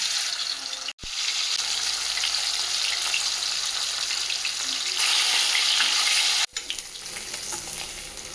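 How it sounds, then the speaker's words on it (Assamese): Pieces of fish rubbed with salt and turmeric sizzle steadily in a hot pan for an Assamese fish curry, a loud continuous hiss broken by two brief pauses. "তাৰপাছত ধুনীয়াকৈ ভাজিও লওঁ।"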